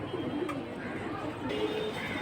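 Pigeons cooing in a loft at a Bengali pigeon market, among high-flying female birds kept in pairs; low, soft, continuous coos sit under a steady background hum at moderate distance.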